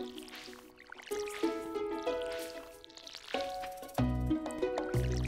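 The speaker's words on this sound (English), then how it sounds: "So now we have to go through and water all our plants." Watering plants in a farming video game, a series of soft plinking drips and pouring sounds with tonal chimes layered over light game music, faint and intermittent.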